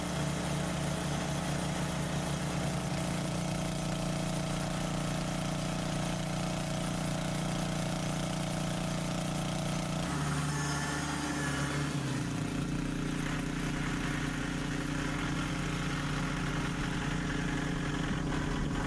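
A tractor engine runs steadily at a low idle-like rumble while lifting heavy IBC totes of slab wood near a sawmill, with a brief drop in pitch midway as the load shifts.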